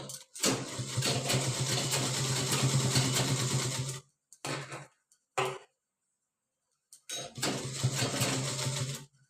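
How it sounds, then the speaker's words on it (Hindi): A sewing machine runs in steady motorized bursts while stitching a tote bag, one long run, two short stops and starts, then another sustained stretch, close and fairly loud with no talk. "पूरे में सिलाई लगा लेना है।"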